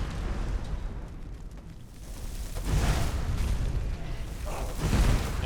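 A fire trap going off in the video game Skyrim, a dungeon-crawl scene with rolling, roaring whooshes of flame that swell twice, loud and close with a low rumble underneath, no talk.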